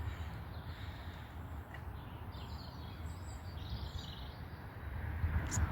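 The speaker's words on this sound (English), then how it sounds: "we just listen to the birds" Birds sing faintly at a park-up spot on the Ridgeway, with scattered high chirps and tweets over a low, steady background rumble. No one speaks.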